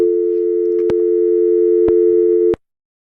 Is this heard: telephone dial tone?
yes